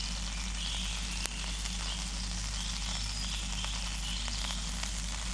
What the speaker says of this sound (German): Das Dach ist heiß geworden, fast wie eine Bratpfanne. Es brutzelt richtig.